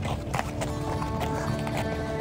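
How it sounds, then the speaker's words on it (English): A horse clip-clops along at a walk during a sunset ride through the Cappadocia valley in Turkey, with soft, fairly quiet hoofbeats over a light outdoor background. "So in this horse ride, you literally ride the horse by yourself."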